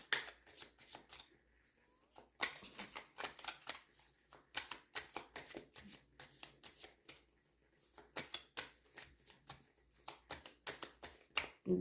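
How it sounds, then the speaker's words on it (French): Tarot cards are shuffled by hand in a quiet room, giving repeated crisp riffling bursts separated by short pauses, close and fairly soft with no talk over them. "Je brasse."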